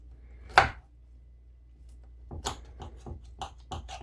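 A knife cuts through a crispy roasted chicken leg quarter: one sharp, loud crunch, a quiet pause, then a run of softer crackling cuts close by.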